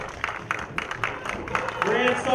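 Crowd at an outdoor strongman event in Belturbet cheers and claps through a woman's final stone lift, dense and steady, building louder toward the end, with an announcer's voice urging them on over it.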